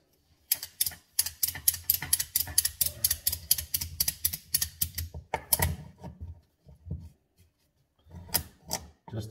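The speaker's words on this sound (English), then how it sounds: "So I lift the ratchet strap just a little bit up." Ratchet strap being cranked tight around a wooden ice box of Rhodesian teak, a rapid run of crisp clicking ratchet strokes, close and loud, then pauses and a few shorter bursts.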